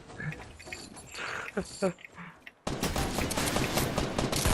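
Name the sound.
gunfire in Fortnite video game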